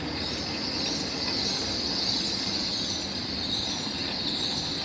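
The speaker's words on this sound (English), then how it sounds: "Right, departing out now any moment is the 1656 to Bristol Temple Meads" Class 800 passenger train at Swindon station, formed of a pair of units bound for Bristol Temple Meads: a steady, even rumble and hiss with no clear peaks, no talk.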